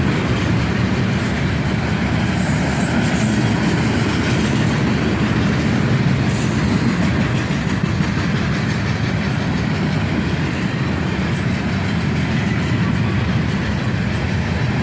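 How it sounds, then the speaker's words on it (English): A CSX southbound manifest freight train led by a pair of ES44DC diesel locomotives rumbles past close by, a continuous loud roar of engines and rolling wagons with steady clickety-clack and occasional wheel squeal. "A pair of ES 44 DCs leave this southbound manifest train."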